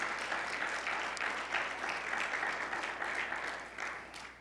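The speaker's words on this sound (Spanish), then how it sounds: "Dale fuerte ese aplauso al Señor." A church congregation claps for the Lord during a sermon, a fairly quiet but steady rhythmic patter of many hands with clustered beats rising and falling, heard from some distance over a low hum, with no talking over it.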